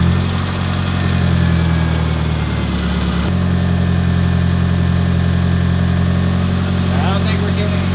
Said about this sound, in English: I'm gonna go ahead and get this thing started